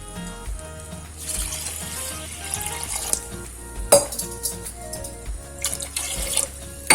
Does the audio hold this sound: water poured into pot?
yes